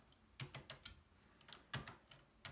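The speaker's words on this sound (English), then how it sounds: "You dismantle the bombs by pressing the appropriate buttons on the keyboard." Keyboard keys pressed in a typing trainer game built on an FPGA as a digital systems final project, a series of sharp, close clicks in an irregular rhythm, some clustered quickly and others spaced apart, heard alone.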